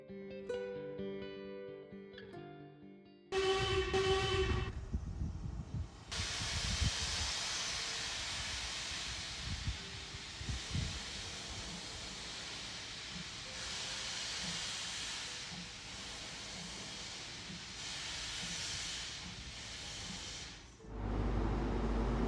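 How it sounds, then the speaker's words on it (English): After a few seconds of tonal music, a loud, sustained hiss of steam rises and rumbles on as a steam train pulls away from a nearby platform at a station in Scotland. "I suddenly realised there was a steam train about to leave on the other platform."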